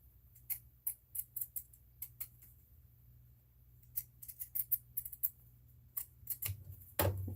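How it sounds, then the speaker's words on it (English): Scissors cut fabric for a lined drawstring bag, making quiet, close snips in quick irregular bursts with short pauses between runs. "so I cut all the way down the first side"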